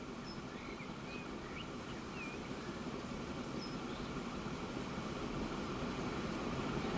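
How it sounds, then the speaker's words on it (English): A train emerges from a tunnel in the railway simulation game Transport Fever 2, a steady continuous rumbling roll of wheels on track with faint high chirps above it, holding at an even level throughout. "Let me see the train come out of the tunnel."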